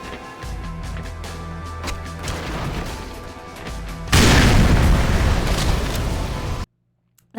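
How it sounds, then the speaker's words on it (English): A loud explosion bursts in a video game, a broad roaring blast that holds steady for a couple of seconds before cutting to near silence, following a stretch of busy game sound with a low droning hum. "That was a very loud explosion."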